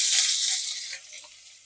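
Two medium onions, finely chopped, drop into hot oil and give a brief, close hiss of sizzling that quickly fades away.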